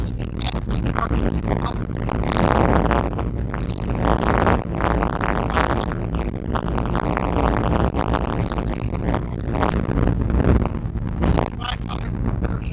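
Strong wind buffets the microphone on a beach at Mustang Island State Park, Texas, a loud continuous roar with gusting surges and rough surf underneath throughout.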